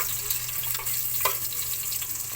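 Chopped garlic frying in a pan as it is stirred until lightly browned, giving a steady, close hiss of sizzling oil with faint scraping touches and no talk.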